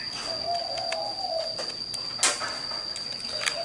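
A recorded sparrow call plays through a bird-trapping loudspeaker, short chirps and calls over a thin, constant high-pitched electronic whine and low background hiss, fairly faint, no voices.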